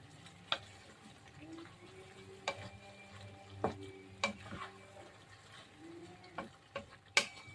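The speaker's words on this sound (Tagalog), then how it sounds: "Halo-haloin natin para maluto yung liver." Pork liver for Ilocano igado being stirred in a pan, with soft sizzling under a scatter of sharp clinks and scrapes of the utensil at irregular intervals, fairly quiet and close.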